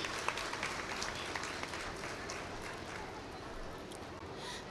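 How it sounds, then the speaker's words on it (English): An audience at a school annual day celebration claps in a continuous, even wash, fairly faint and distant, with no voices over it. "A big round of applause,"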